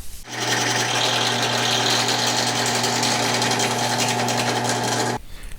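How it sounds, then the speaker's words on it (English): A power drill whirs steadily for about five seconds, close and loud, biting into the center of a plastic motorcycle grip before abruptly stopping. "So I'm just going to drill right into the center of that."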